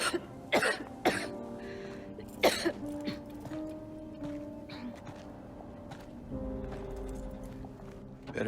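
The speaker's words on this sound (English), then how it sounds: "Better do something about that cough." A character in the video game Silent Hill 2 coughs in a few sharp, separate bursts, with some throat clearing, over a quiet, low ambient game soundscape.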